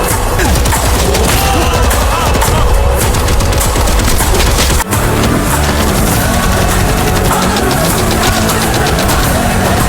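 Gunfire in an Indian action film, dense rapid shooting and bursts blended with music and effects, loud and continuous throughout with a brief break midway.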